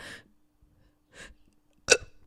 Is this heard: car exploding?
no